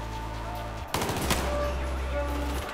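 A burst of gunfire in the Battlefield 4 campaign erupts after a steady hum, sharp rapid shots clustered over about a second, followed by a low droning rumble.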